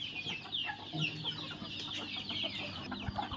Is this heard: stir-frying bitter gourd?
no